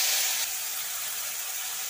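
A paste of cumin, onion, green chilli and tomato hits oil in a very hot kadai for fish curry, giving a loud, steady hissing sizzle that starts strongest and settles into a constant spit.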